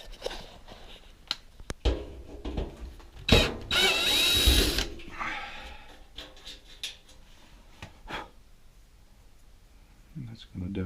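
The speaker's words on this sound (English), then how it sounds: "Take that screw off." A screw is removed from a dryer panel with a power tool, giving a short whirring burst amid clicks and metallic handling, with someone talking over it.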